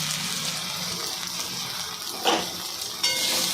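Pomfret fish curry bubbles in a frying pan with a dense, watery sizzle as it is stirred, with a couple of sharper scraping strokes near the end, close and without talk.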